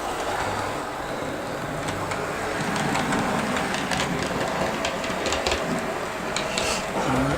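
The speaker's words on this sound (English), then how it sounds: "It's a lovely smooth running train," A smooth-running model train rolls steadily along its track, a continuous close whirring and rumbling drone with faint rhythmic clicks, holding an even level throughout with no speech over it.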